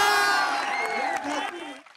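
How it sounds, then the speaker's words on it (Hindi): Men in the audience at a Hindi comedy poetry gathering (kavi sammelan) clap in steady, dense applause that slowly fades out, with a voice sounding over it. "इधर के जितने पुरुषों ने इस पे ताली बजाई"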